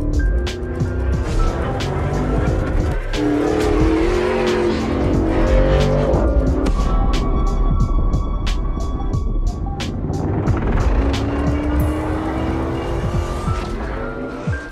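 A 2023 Chevrolet Corvette C8 Z06 sports car with a mid-mounted engine is driven hard, its loud engine roaring and shifting continuously with brief tire squeal, close and steady throughout.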